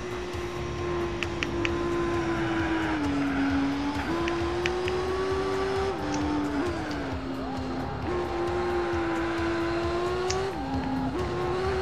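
A Nissan 350Z races in the video game Gran Turismo 4, its engine droning at a steady high pitch with repeated dips and rises as gears shift through corners, continuous and close.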